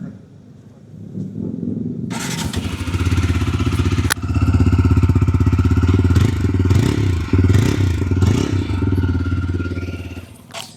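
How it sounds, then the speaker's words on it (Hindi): A 2025 TVS Apache RTR 4V motorcycle fires up after a brief starter crank, settling into a loud, close throbbing idle from its sporty exhaust, with several sharp throttle blips raising the pitch before it drops back to idle. "एग्जॉस्ट की बात करूँ तो इसकी साउंड मैं आपको सुना देता हूँ बाइक ऑन करके"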